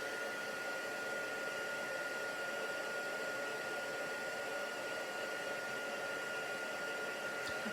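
Steady, whooshing blower noise of a heat gun setting embossing powder, a constant close hiss that runs unbroken the whole time without talk.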